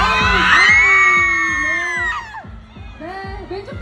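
Fans cheer and shout at a movie VIP premiere photo wall, high excited voices and whoops swelling loudly at first, then fading, with repeated sharp bangs or claps recurring underneath.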